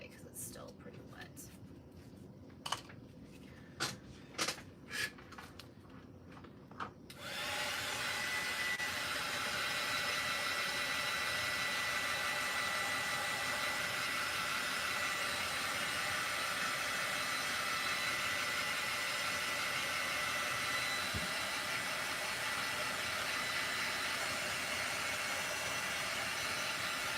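Several soft taps are followed by a dryer switching on and blowing steadily and loudly on a tumbler cup to dry its paint, a continuous close whoosh that runs to the end.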